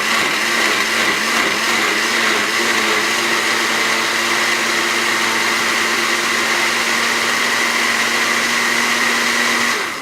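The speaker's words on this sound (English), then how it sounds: "then you'll go ahead and puree it." Blender pureeing vegetables in a kitchen, a loud steady motor whir holding for the whole stretch with a slight pitch wobble early on, no voices over it.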